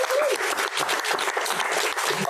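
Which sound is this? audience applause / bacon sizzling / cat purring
audience applause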